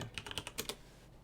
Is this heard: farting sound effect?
no